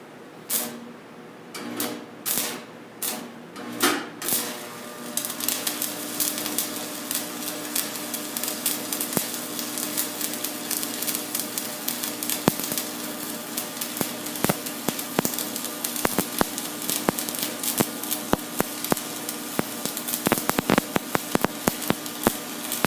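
Arc welding with the hood down, a steady loud crackling sizzle that runs for about twenty seconds after a few sharp taps at the start, close up with no talking.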